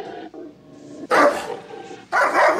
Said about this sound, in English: a cute, docile-looking dog with angry barking and growling thrown in there